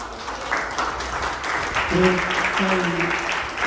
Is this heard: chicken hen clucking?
no